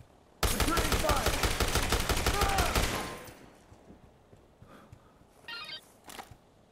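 A loud, rapid burst of automatic gunfire from Dead Rising Deluxe Remastered runs for about two and a half seconds, then cuts away to quiet background with a few faint electronic beeps.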